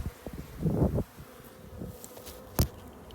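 Honey bees buzz around a hive being pulled out during a desert removal job, a close swelling drone early on, then softer scattered buzzing with a sharp loud pass near the end.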